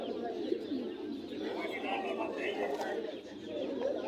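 Pigeons coo softly in a busy Bangladeshi pigeon market at Jinjira, their low murmuring steady under crowd chatter and nearby voices throughout.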